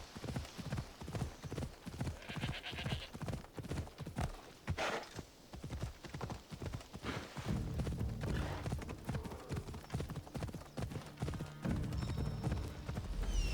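Horse hooves clop in a steady walking rhythm throughout in the video game Assassin's Creed Odyssey, close and continuous, with an occasional faint whinny and brief low chatter in the background.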